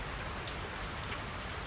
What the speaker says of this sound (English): being under this corrugated iron roof and hearing the pitter-patter of the rain